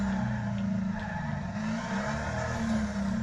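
Heavy truck engine in the racing game Wreckfest droning steadily with a low rumbling note, revving continuously at a loud, even level with no talk.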